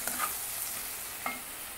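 Spice paste with salt sautés in a pan, a soft steady sizzle broken by a couple of brief stirring scrapes, faint and close.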